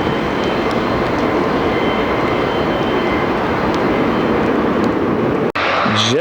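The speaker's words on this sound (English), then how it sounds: "JetBlue Airways, 1383 now from Guatemala City." JetBlue Airways flight 1383 from Guatemala City landing at Fort Lauderdale, heard as a loud, sustained jet roar that cuts out abruptly near the end, followed by a brief rising whine.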